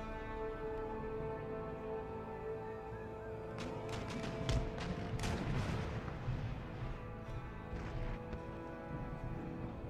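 Howitzer artillery fire in the Empire Total War video game, with a cluster of sharp booming shots midway over a steady background rumble of battle, moderately loud and without talk.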